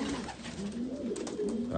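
Racing pigeons at the loft during a 240 km race coo repeatedly in soft, low, rolling calls that are close and steady, with faint bursts of wing or background noise.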